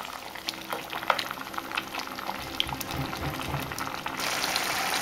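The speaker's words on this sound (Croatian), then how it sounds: "Polijemo s vodom ili temeljcem i pirjemo dalje." Beef medallions simmering in a pot after water or stock is poured in, bubbling and crackling with soft liquid ticks, the sound thickening and growing slightly louder toward the end; no talking.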